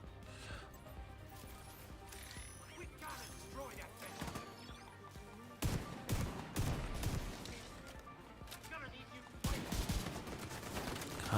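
Turret gunfire in The Division 2 clatters in dense bursts with heavy impacts and mechanical rattling, loud and chaotic, while a person talks over the combat.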